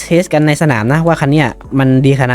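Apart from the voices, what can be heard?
No everyday noise stands out behind the speech.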